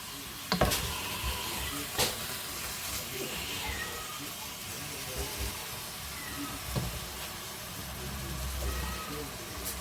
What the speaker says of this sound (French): Et il faut bien faire revenir tous les morceaux.